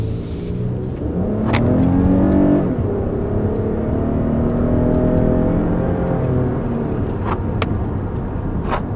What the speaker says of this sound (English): this is actually the first time that we've been driving the ES 350, and really feels strong off the line